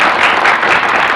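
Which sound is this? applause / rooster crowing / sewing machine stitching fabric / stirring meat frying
applause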